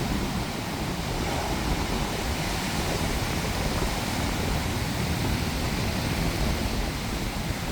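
Sea waves surge onto an eroding beach at Anchangadi, Kadappuram, during severe coastal erosion, a constant heavy wash of surf and wind roar, fairly close and unbroken.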